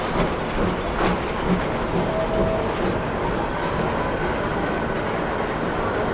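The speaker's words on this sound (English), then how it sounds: "5 locomotives operate on the railroad here at Cedar Point. All of them steam powered." A steam locomotive train at Cedar Point amusement park rumbles steadily past with continuous rolling wheel noise and faint metallic squeals, moderately distant, with no voices.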